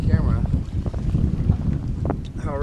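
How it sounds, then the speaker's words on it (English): Strong wind buffets the microphone on the water at Cold Pass during a fishing trip, a constant low rumble with gusts, while people talk over it. "And it is windy."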